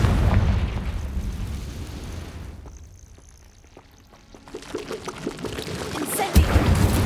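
A Confringo fire-blast spell explodes in the video game Hogwarts Legacy, a loud rushing boom that dips away before crackling bursts and a heavy thump return, with no one speaking.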